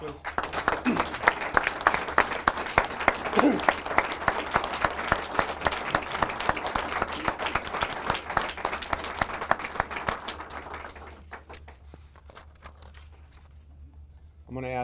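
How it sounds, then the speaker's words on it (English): An audience at a police department awards ceremony applauds in a long sustained round of clapping that fades out after about ten seconds into near quiet, with a voice starting at the very end. "Please, another round of applause, please."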